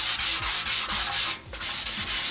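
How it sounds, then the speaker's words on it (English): Motorcycle paint is hand sanded with 600 grit sandpaper in a crisscross pattern, giving a loud, close, rhythmic scratchy rubbing in quick repeated strokes with brief pauses. "I'm using 600 grit sandpaper."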